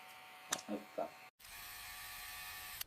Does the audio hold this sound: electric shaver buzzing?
yes